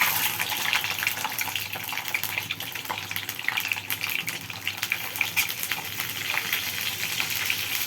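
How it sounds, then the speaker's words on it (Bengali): Eggs fry in hot oil with salt and turmeric for an egg curry, giving a steady, loud, dense sizzle and crackle from close by, with faint stirring scrapes underneath and no voices. "ডিমগুলো কিন্তু লাল করে একটু ভেজে নেব"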